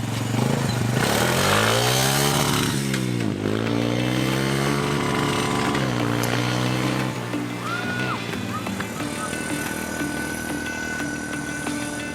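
A quad ATV engine being ridden, loud and close throughout, with a buzzing drone that rises and falls as the throttle works and then settles to a steadier high note, while someone speaks briefly over it.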